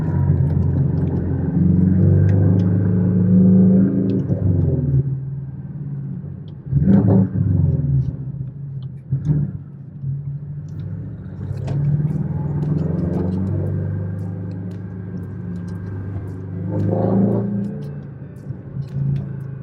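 A modified Porsche 718 Cayman S drives in snowy conditions, its engine a loud, deep rumble that swells in several sharp revving bursts before settling back, heard from inside without talk.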